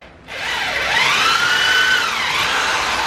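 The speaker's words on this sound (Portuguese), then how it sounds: "Momento furadeira!" A handheld power drill whirs steadily for about three seconds during a living-room makeover, its motor pitch rising and dipping slightly, loud and close with no talking.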